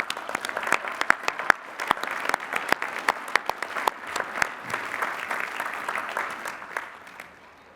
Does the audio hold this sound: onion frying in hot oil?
no